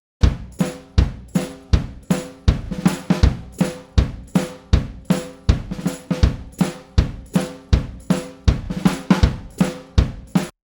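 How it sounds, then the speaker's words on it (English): A loose drum kit plays a cool shuffle groove, recorded rough, with steady swung kick and snare hits and ringing cymbals repeating evenly throughout, close and loud with no voices. "this is a rough drum recording of a cool shuffle groove"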